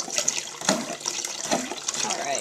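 Water draining and splashing out of an AeroGarden Bounty hydroponic lettuce garden during a full water change, a steady close trickle with gurgling surges and no talking.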